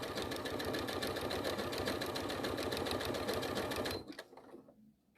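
Sewing machine running a wavy decorative stitch across crazy patchwork, a close, steady rapid whir for about four seconds before stopping abruptly, leaving faint handling noise.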